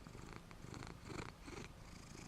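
A pet cat curled up and resting purrs steadily and softly up close, a continuous low rumbling with gentle rhythmic pulses from each breath, with no other sounds around it.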